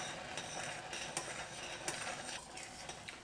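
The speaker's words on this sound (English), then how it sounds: "we'll keep stirring until the moisture from the ghee is evaporated" A spoon stirring carrot halwa with ghee in a pan, with irregular scraping and light metallic clinks over a soft background hiss, close and fairly quiet.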